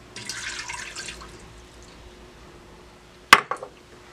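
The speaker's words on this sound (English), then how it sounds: "So I'm going to go ahead and put a cup of water in." A short burst of water splashing and pouring into a metal Instant Pot pressure cooker pot, followed by a quiet pause and a sharp clink of metal.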